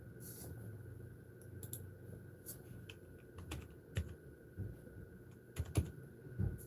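Computer keyboard typing in a quiet room, a scattering of light clicks and irregular keystrokes with a few louder taps toward the end, no voices.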